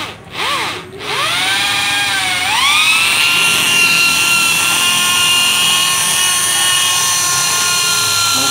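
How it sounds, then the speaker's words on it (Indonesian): Power drill with a 4 mm bit boring into a cast engine block ahead of tapping new threads, a loud, steady high whine that dips and climbs back up as the bit bites in, then holds. "Kita bor. Sebelum ditap kita bor terlebih dahulu."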